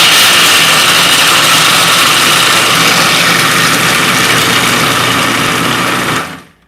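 A Breville Sous Chef food processor grinds almonds and hazelnuts with a loud, steady, high-pitched whir that runs without a break for about six seconds before stopping abruptly.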